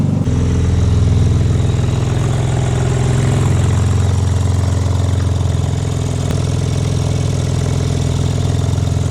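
A rebuilt BMW M4 Competition idles steadily at operating temperature, a constant loud low rumble with a slight knocking texture and no break throughout, with no voices.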